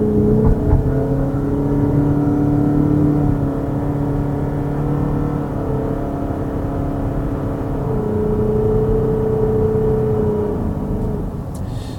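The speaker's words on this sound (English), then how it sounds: "you get an earful of this continuously variable transmission working very hard to continuously vary its gears" A Mazda CX-50 Hybrid's CVT drones steadily as it strains up a steep Vancouver hill, a loud sustained engine whine holding nearly constant pitch with slight rises and falls, no talking.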